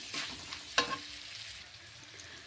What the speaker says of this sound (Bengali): পেঁয়াজ পাতাগুলো কেটে রেখেছিলাম দিয়ে দিলাম সেগুলো একটু ভালো করে নেড়ে চেড়ে